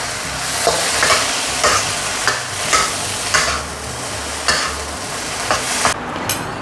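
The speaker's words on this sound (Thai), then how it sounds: "ผมก็จะใส่สุดท้ายด้วยต้นหอมผักชีนะครับ ผัดให้เข้ากันนะครับ" Eggs with naem, spring onion and coriander stir-fried in a pan, a steady sizzle broken by regular scraping strokes of the spatula about every half second, close and alone, ending abruptly.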